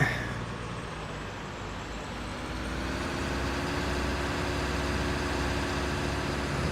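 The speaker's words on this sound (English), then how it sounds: "Just hear that engine roaring." A vehicle engine in Farming Simulator 19 on PS4 drones steadily and evenly throughout, a moderately quiet, continuous hum with no pauses.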